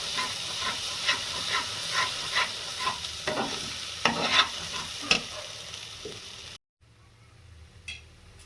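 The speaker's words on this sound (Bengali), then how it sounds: "কাজু বাদাম টক দইয়ের যে পেস্টটা বানিয়েছিলাম সেটা দিয়ে দেব ভালোভাবে মশলাটা কষিয়ে নেবো" Cashew and yogurt paste with spices sizzles and is stirred in a pan for prawn malai curry, with repeated spoon scrapes over a steady fry until an abrupt cut near the end, no talking.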